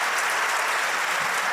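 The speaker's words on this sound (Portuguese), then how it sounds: "Vamos aplaudir a Jesus." A church congregation claps together in a dense, steady burst of applause that fills the room, with no voices over it.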